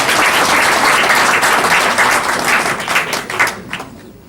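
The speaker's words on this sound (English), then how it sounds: "Can you clap for her again?" Audience clapping for a chancellor at a university dental school alumni launch, dense and steady applause filling the room before thinning and tapering off near the end.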